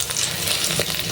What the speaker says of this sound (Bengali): আমি সিম ভাজার জন্য মরিচগুলো সব আগে ভাজা নিচ্ছি।